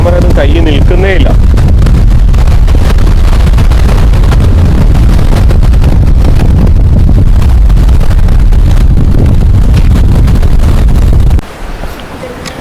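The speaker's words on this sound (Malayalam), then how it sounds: "ഇവിടെ ഗംഭീര കാറ്റടിക്കുകയാണ് കേട്ടോ, ഒരു രക്ഷയില്ലാത്ത കാറ്റ്." Strong wind roars across an open grassy meadow on the Agasthyarkoodam trek, battering the microphone with loud, constant buffeting until it suddenly drops away near the end.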